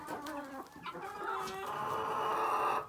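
Chickens cluck and call close by, a drawn-out, crowing-like cry rising near the end, loud and clear with no talking.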